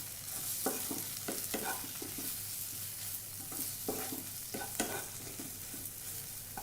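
Spice powders including pepper powder heating in a pan for cauliflower kurma, a low constant sizzle with scattered spoon scrapes and taps against the pan, close by and fairly quiet with no speech.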